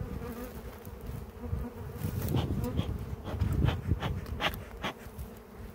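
Honeybees buzzing close by during beehive care in September, a continuous droning hum with individual bees swelling louder as they pass near, over faint handling noises at the hive.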